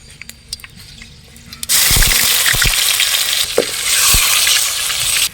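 Ginger garlic paste drops into hot oil with mustard seeds and fenugreek for a Hogenakkal-style fish kulambu, setting off a sudden loud, steady sizzle that runs to the end, with a few utensil knocks.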